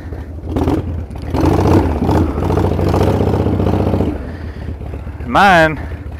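A carbureted Evo engine on a 1997 Harley-Davidson Springer Softail rumbles low and throaty at close range, swelling and easing through several revs, with someone talking over it.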